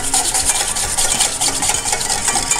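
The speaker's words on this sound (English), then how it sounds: "Just gonna whisk those two together." Whisk rubbing briskly against a bowl while blending Cabernet vinaigrette with oil for a basic dressing, a steady close raspy scraping that continues without pause or talk.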